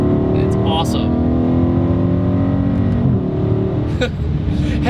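A car with a 6.4-liter Hemi engine accelerates hard after a downshift, its loud, steady engine roar filling the cabin as a person talks over it.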